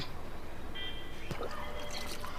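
Water being poured onto garden plants, a soft steady trickle and dribble heard close by with a faint background hum, no talking.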